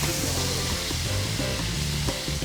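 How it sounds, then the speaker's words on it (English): Liver sears in butter in a hot pan, a dense, steady crackling sizzle with small pops and faint scraping throughout, close and alone without talk. "all that butter that's been searing up that liver, that's good stuff"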